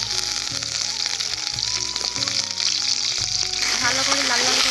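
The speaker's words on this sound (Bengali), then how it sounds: "এই আলুগুলো ভেজে নেব।" Potatoes frying in hot mustard oil in a heated wok give a loud, steady sizzle with bursts of crackling and occasional stirring scrapes, continuous throughout with no talking.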